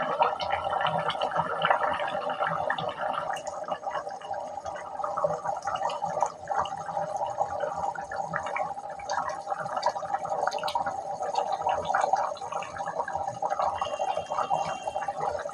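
Fish curry with bitter gourd and drumsticks simmers in a pot, giving a continuous soft bubbling and gurgling of liquid, steady and close, with no one speaking.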